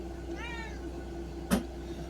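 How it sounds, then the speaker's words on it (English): A house cat gives one short, clear meow nearby in a quiet indoor room, followed a second later by a brief sharp click. "Oh yeah, this is a kitty."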